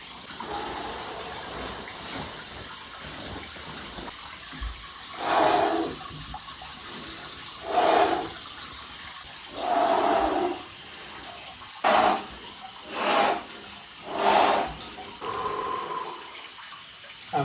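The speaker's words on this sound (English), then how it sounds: "So to get warmer, I'm gonna get into the water." Water sloshes and splashes in bursts as a person lowers into an outdoor cold plunge, about seven separate swells of movement spread over a quiet, hissy background.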